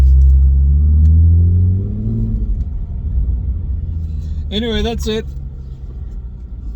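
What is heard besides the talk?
Ford Mustang V6 with Beluga axle-back exhaust rumbling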